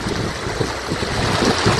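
Water runs over algae-slick cement stones at Arali Valukai in Jaffna, making a steady broadband rush with gusty wind buffeting the microphone.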